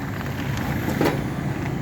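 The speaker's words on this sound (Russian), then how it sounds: "двухцилиндровый дизель." A 22 hp tractor's simple two-cylinder diesel engine runs at a steady idle, a constant close rumble with no speech over it.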